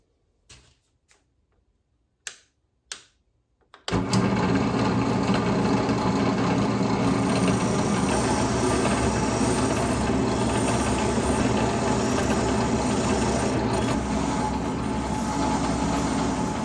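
A wire wheel spins steadily against a forged custom knife during finishing, a loud continuous whir with a high metallic hiss that starts abruptly after a few sharp clicks and bumps, then runs unbroken to the end.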